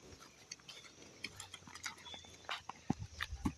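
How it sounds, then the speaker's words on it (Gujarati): A mare walking on a farm toward water, faint irregular hoof clops on the ground growing more frequent toward the end, with light background noise. "તો જો મિત્રો ઘોડી જાય છે હવે પાણી પીવા માટે"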